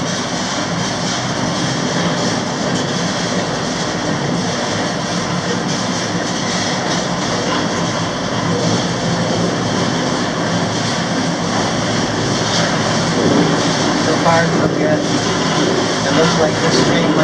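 A loud, steady rumble of a long freight train of about 200 cars rolling past continuously, dense broadband noise with a faint persistent tone and no break.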